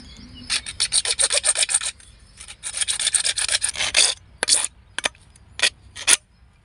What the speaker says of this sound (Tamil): இப்போ கட் பண்ணுறோம்